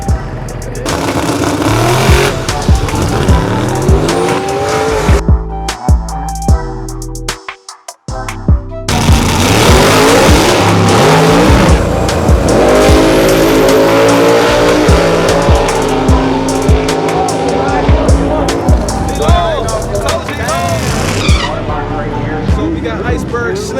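Race cars rev hard and skid on a track with loud engine roars, sharp tire squeals and repeated bursts of acceleration. Voices are heard at times over the continuous, close, high-volume noise.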